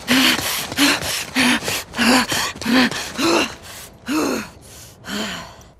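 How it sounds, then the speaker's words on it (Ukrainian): Heavy, ragged breaths from The Last of Us Part II repeat in a steady rhythm, about eight gasping inhales and exhales close up, with no voices or music alongside. "У деяких секціях музики немає, тільки звуки дихання."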